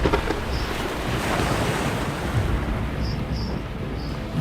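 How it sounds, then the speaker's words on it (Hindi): Stormy sea waves surge and roar continuously with gusting wind noise, a loud, dense wash of surf with no voices present. "बादल गरजने लगे, बिजलियां कड़कने लगी, समुद्र का पानी उफान मारने लगा।"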